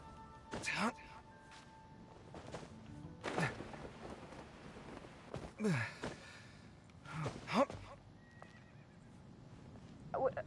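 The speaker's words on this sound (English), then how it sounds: "I heard a horse, but where's the horse?" Several horse whinnies in the video game Genshin Impact ring out at intervals, each a shrill descending neigh, with faint background sounds between them.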